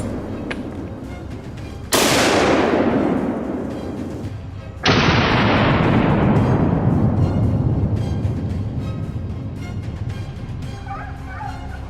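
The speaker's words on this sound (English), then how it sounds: "One clean shot from instinct alone, a quick and decisive end." Two loud gunshots, about three seconds apart, ring out as a hunter fires on a wild boar in the field, each blast decaying into a long rumbling echo that fills the surroundings.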